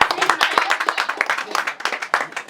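Several people clap together at a birthday party, dense uneven hand claps filling the moment with voices mixed in underneath.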